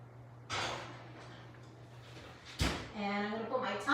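An oven door clunks open and a muffin tray is slid inside with a sharp metallic knock, close by, while someone talks throughout.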